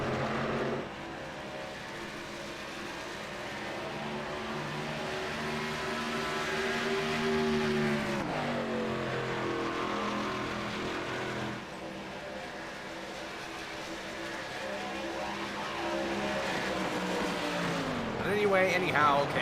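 Race cars in a sim racing game at Pocono hold a steady, droning engine roar that rises and falls in pitch as they run the track, with a commentator talking over it throughout.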